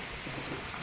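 Steady rain falling outside a family home on a monsoon school day, a dense constant hiss of drops with no voices, brief and even throughout.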